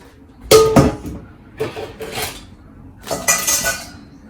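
A metal lid clatters onto a pot of Ilokano-style nilagang baboy pork stew with bok choy, in three close, sharp bursts of clanking and rattling with quiet pauses between.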